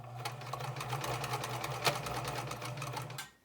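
Sewing machine running steadily while stitching a centered zipper seam, a continuous close mechanical whir with rapid needle ticks, alone without talk.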